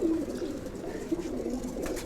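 A pigeon from a home loft coos nearby, a low, steady, throaty murmur with a couple of slight swells over two seconds, heard alone without voices.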